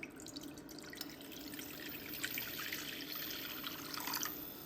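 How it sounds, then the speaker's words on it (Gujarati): About two cups of water trickle and splash steadily into a pan for cooking barley, a continuous faint liquid patter with drips over a low background hum. "2 કપ જેટલું પાણી મૂકી દીધેલું પેનમાં."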